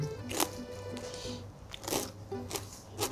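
Crisp filo wafer with yoghurt cream and sticky apricots being bitten and chewed, giving several close, brittle crunches in an irregular rhythm with quiet pauses between them and no talking.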